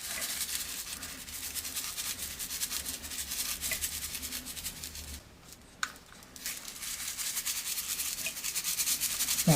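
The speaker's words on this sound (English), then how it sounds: "I'm going to sprinkle each one a whole thing on the cake." Holiday sugar sprinkles are scattered over a chocolate cake, a close, soft rustling patter that pauses briefly partway through and then resumes, with no voices.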